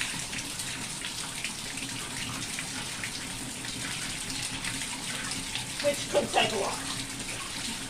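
Tap water runs steadily into a sink while tie-dyed fabric is rinsed, a constant hiss with a few small splashes near the end, under a quiet speaking voice.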